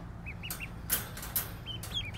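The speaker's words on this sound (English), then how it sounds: "These are our Welch Harlequin ducklings" Welsh Harlequin ducklings give soft, high peeping calls in short bursts over a quiet outdoor background, with a few brief rustles between the calls.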